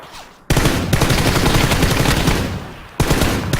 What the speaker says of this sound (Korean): 오, 또 쏴!